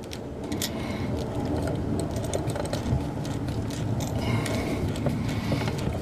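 A power drill drives coarse-thread screws into a wall, whirring and grinding steadily for several seconds with a ratcheting, creaking edge, close and fairly loud, with no talking.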